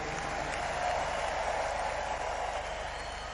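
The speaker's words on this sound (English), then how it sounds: "Can we give the Lord a big clap and a shout of praise?" A church congregation claps and cheers in praise, a continuous, steady wash of crowd noise that stays even in level throughout.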